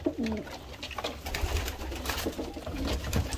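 Domestic pigeons in a backyard loft coo with soft low calls over a steady background hum and rustling, near and moderately loud, with no talk.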